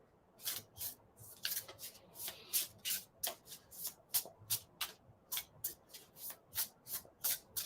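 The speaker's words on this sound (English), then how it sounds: "These shuffle gorgeously with gorgeous sound, but very easy to shuffle, very satisfying shuffle." A deck of Limelight playing cards is shuffled over and over close up, each riffle a crisp papery burst in a steady rhythm of about two per second, with no voices.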